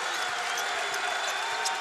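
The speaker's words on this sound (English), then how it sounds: "Crowd going bonkers as Robert Jarvis heads the other way." Crowd cheering loudly in a basketball arena at a Summit League tournament game between South Dakota State and Oral Roberts, a dense continuous roar of voices and applause.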